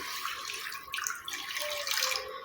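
Water pours into an iron kadai on a stove, a soft, brief splashing trickle heard faintly and close, without talk.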